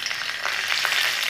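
Mustard seeds sizzling in hot mustard oil in a kadhai, a dense continuous crackle and hiss with small popping bursts, close and steady, no voices.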